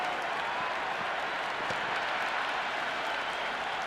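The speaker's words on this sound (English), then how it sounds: "these spectators here today completely enthralled and energised, judging by that noise anyway." Steady wash of applause and cheering from a cricket stadium crowd in the Cricket 26 video game, a dense, continuous roar with no gaps, loud and constant throughout.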